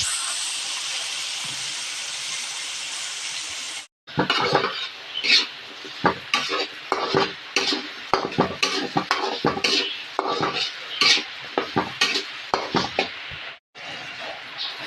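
Garlic, onion and sweet potato sauté in a pan, opening with a steady hiss, then a close run of uneven sizzling bursts and clattering stirs against the pan, each crackle rising and fading in quick succession.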